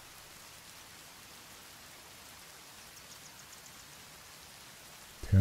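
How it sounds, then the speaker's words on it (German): Soft, steady rain patters in the survival video game The Forest, a faint continuous hiss without voices, ending with a brief louder bump. "Es hört auf zu regnen."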